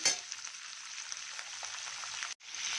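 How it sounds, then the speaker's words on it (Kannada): Onions fry in a pan with a steady, close hiss and crackle that runs continuously, broken by one brief pause near the end before the sizzle resumes. "ಸ್ವಲ್ಪ ಫ್ರೈ ಆಗಲಿ"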